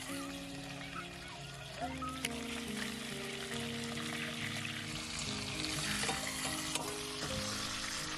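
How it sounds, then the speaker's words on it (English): Pork cheeks browning in olive oil sizzle quietly beneath a steady musical background, with a few faint clinks along the way. "The cheeks are browned on both sides in olive oil."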